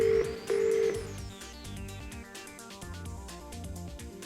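Short telephone dialing tones from a Polycom HDX video conferencing system, a couple of beeps at the start followed by a rising series of tones and a ringing pattern, moderately quiet.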